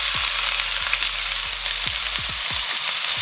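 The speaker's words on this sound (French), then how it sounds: "Je vais venir directement mettre mes oignons" Onions fry in about five to six tablespoons of hot olive oil in a saucepan, a loud continuous sizzle up close with occasional soft knocks and stirring clicks.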